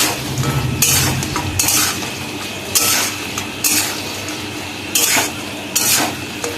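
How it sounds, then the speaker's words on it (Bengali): Fried chicken pakoras being stirred and tossed into chili sauce in a pan for chili chicken, a loud close sequence of spoon scrapes and clinks against the metal pan recurring roughly every second over a low sizzle. "এবার এর মধ্যে ভেজে রেখে চিকেন পকোড়াগুলো দিয়ে দেবো ভালো করে মিশিয়ে নেবো সসের সঙ্গে চিকেন পকোড়াটাকে"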